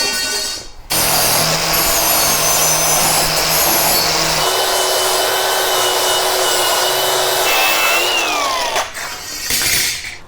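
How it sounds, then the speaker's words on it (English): A power tool cuts 3/16-inch steel flat bar with a loud, continuous grinding whine that lasts about eight seconds, then winds down and stops. "I'm gonna cut 4 pieces of this just 3/16 inch steel, just flat bar, 2 inches thick"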